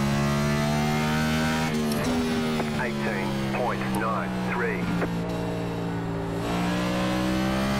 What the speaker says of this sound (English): using the engine braking to slow the car as well